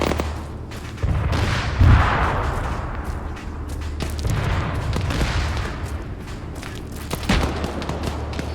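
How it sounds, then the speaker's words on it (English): Incoming cannon rounds explode in Arma 3, a series of deep booms and rumbling blasts spread over several seconds, loud and reverberant against steady low battlefield noise. "Oh yeah, we have got incoming cannon rounds now."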